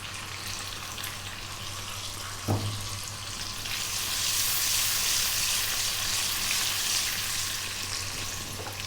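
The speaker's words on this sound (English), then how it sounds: "We're gonna drop in 2 teaspoons of cumin seeds." Cumin seeds and fresh curry leaves sizzle in hot oil for a spinach potato curry, a steady close hiss marked by one sharp clunk early on, after which the frying swells louder.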